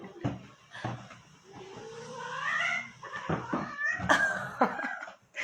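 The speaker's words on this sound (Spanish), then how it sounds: "los gatos se están peleando acá atrás" Cats fight out back, letting out loud, drawn-out yowls and caterwauls with rising and falling wails, along with a few sharp thumps and bursts of noise, close by and with no talk.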